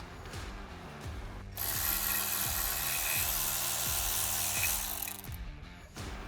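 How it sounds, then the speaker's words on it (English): A T30 Torx driver on a ratchet backs out the brake caliper bracket screw on a C8 Corvette Z06 during a rotor swap: rapid, steady ratchet-pawl clicking up close, with a louder whirring stretch in the middle and no talking. "Using your T30 Torx, we're going to remove this."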